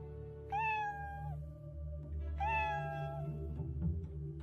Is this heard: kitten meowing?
yes